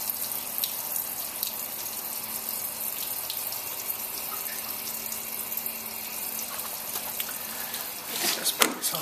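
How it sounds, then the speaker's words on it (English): Water rushing out during a tank wash test, a steady loud hiss and splash of flowing water that holds constant for several seconds, then a brief clatter near the end. "There we go, that's the water coming out of there."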